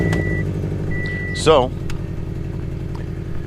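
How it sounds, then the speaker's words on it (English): A car engine with a loud exhaust header leak rumbles steadily with a harsh, raspy throb, while a voice briefly speaks over it partway through. "And also, I have a wicked loud exhaust leak."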